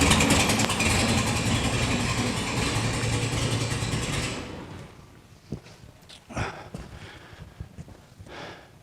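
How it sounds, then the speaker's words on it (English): A 1974 VW Super Beetle engine running just after a cold start, with a carburetor that seems to lag: a loud, steady idle that cuts off partway through, followed by a few faint clunks in the quiet. "cold start fires up pretty good"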